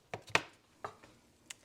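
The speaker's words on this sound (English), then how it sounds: "there's still ice on these and I'm still chopping them up." Knife chopping partly frozen, still icy mushrooms on a cutting board in a home kitchen, a few sharp, uneven thuds spaced apart, close and fairly quiet.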